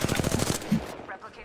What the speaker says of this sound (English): I'm getting fucking shot at.